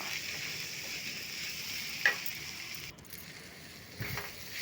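Chopped onions and tomatoes fry with turmeric and salt in a pan, a steady close sizzle with faint stirring scrapes and a couple of brief clatters, no voices.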